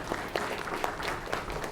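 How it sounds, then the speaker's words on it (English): An audience at an education symposium applauds after a presentation, a moderate burst of steady clapping with a few sharper individual claps standing out, heard without talk. "Let's give them a round of applause."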